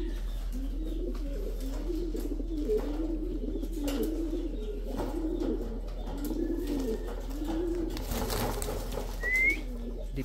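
An ice pigeon in a breeder cage gives soft, repeated rolling coos, close and fairly quiet, with a few faint chirps around it.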